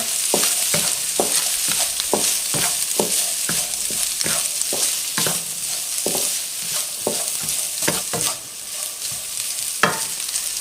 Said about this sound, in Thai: จะใส่แครอทและหอมใหญ่ลงไปผัดเลยนะคะ